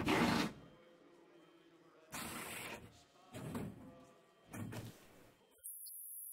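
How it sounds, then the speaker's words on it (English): Pit crew servicing a race car in Assetto Corsa Competizione: four separate bursts of mechanical clatter and clunks, spaced about a second apart, over a low steady hum. "You hear them working on the car."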